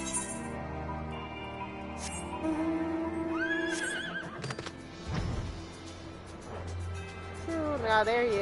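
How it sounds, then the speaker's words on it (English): A horse in the video game Final Fantasy 14 gives several whinnies and neighs with some hoof clip-clop, layered over steady in-game music and effects. "Let me get my horse out."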